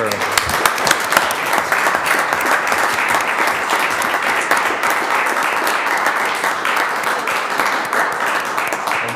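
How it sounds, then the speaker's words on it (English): A city council meeting audience gives a loud, dense round of applause that holds steady for several seconds, with voices mixed in under the clapping. "everybody give a loud round of applause to Kate Miller."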